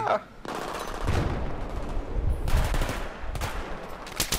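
Rapid automatic gunfire rattles through Battlefield 3 in dense, loud bursts with brief gaps between them, sharp cracks close at hand and no one talking.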